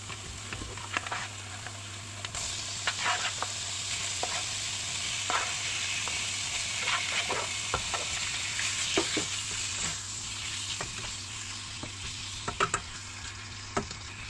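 Pork stir-frying in a hot pan with garlic and fish sauce for a Khmer sweet-and-salty dish, a steady close sizzle punctuated by frequent scraping and stirring clatters of a utensil, with no talking.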